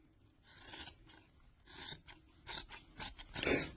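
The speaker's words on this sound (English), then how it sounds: "Now you have this straight top that you can cut some of the extra." Scissors cut excess fabric off a sewn boffer sword cover for LARP, making several close, crisp snipping and rasping strokes in an uneven rhythm with short pauses between them.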